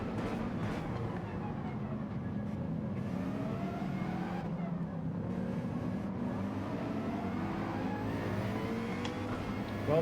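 Race car engines in Gran Turismo 7 on the Nordschleife, continuous high-revving whine with rising and falling pitch through gear shifts, loud and sustained, with faint talk underneath.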